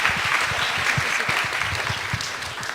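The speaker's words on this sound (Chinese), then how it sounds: "让我们就用最热烈的掌声来欢迎好范美惠同学" Church congregation at a Sunday worship service giving warm applause to welcome a theology student preacher, a continuous close crowd of clapping with no talk over it.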